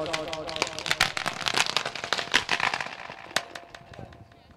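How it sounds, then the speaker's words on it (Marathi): Firecrackers bursting during a local cricket tournament match, a dense crackling barrage of sharp pops that thins out toward the end, with a commentator talking over it. "फटाक्यांची अतमसबाजी इथे मात्र होताना पाहायला मिळतोय"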